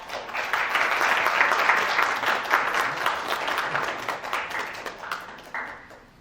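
An audience at an M&A forum breaks into warm, sustained applause, a dense wash of many hands clapping that tapers toward the end, with no talk over it.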